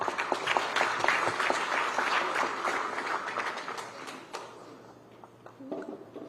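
Audience applause at the launch of a higher education conference in Mbarara City, a dense round of hand clapping that gradually thins and fades, with a few louder claps near the end.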